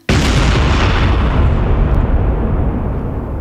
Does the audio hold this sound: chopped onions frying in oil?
no